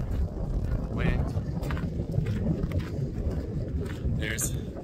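Strong wind on an exposed high mountain trail near Hallett Peak buffets the microphone with a constant low roar and gusting rumble throughout.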